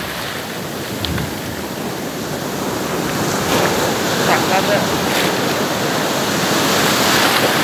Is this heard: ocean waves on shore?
yes